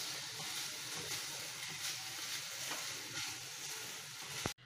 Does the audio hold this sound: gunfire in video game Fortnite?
no